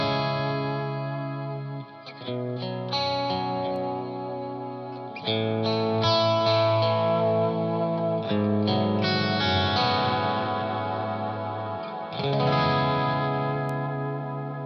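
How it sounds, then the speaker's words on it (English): Electric guitar through a Friedman BE-OD overdrive pedal with the guitar volume knob lowered, played with a clean, bright, shimmering tone, chords and notes ringing out over several seconds and no voices. "by lowering the guitar knob, the volume knob on the guitar, I get this cleaner crystalline sound"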